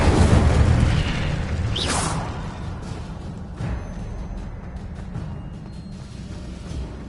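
Incendio fire spell cast in the Hogwarts Legacy video game: a loud booming burst opens, a sharper crackling flare follows about two seconds in, then a fainter rumbling tail with smaller pops.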